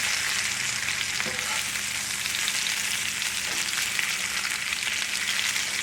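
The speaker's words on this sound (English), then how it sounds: "the potatoes are getting a little color on them" Potatoes frying in a pan for a country-style sausage, sauerkraut and potato dish give a steady, dense sizzle that holds at an even level throughout, with a faint stir or scrape in the middle and no voices.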